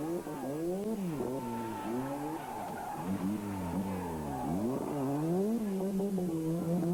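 A Lancia rally car on a special stage at the Boucles de Spa 1990 rally drives past with an engine note that rises and falls steadily as the revs climb and drop through gear changes, loud and fairly close, with a faint squeal.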